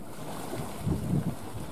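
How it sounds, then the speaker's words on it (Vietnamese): The big engine of a heavily loaded Ben Tre trawler boat runs with a low, steady rumble, mixed with wind and water noise. "Động cơ rất là lớn luôn các bạn."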